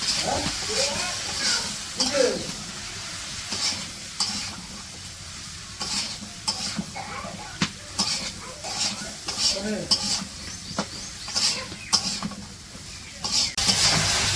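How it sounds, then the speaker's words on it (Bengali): Steady sizzling of mixed vegetables being sautéed in a pan for a village-style fish curry, with frequent scraping and stirring clatter throughout, close and fairly loud. "সবজিগুলো কষাই নিতেছে এখন।"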